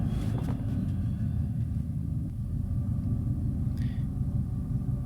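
Dodge Charger engine rumbling steadily at close range, a dense low drone that holds unbroken throughout, with a brief brighter transient near the start and a faint higher whine late on.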